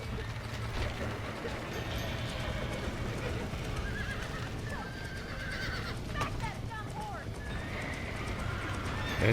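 Horses whinny and hooves clop in a Red Dead Redemption game scene, the neighs rising over a dense, steady bed of game noise and voices that runs throughout.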